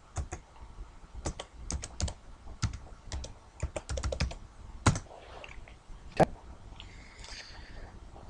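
Someone types on a computer keyboard, logging in to an online course: irregular bursts of close, crisp key clicks with short pauses between them.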